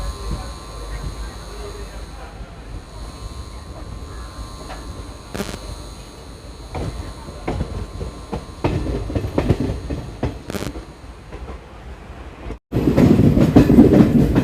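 An Intercity superfast express, Mangaluru Central to Coimbatore, rolls along the line near Shoranur with rhythmic clickety-clack of wheels over rail joints. The clatter grows louder and busier toward the end, with a voice faintly present.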